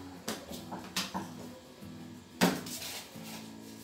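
Bread dough for homemade French rolls being kneaded by hand on a kitchen counter, a few dull thumps and slaps spaced about a second apart over a soft steady background.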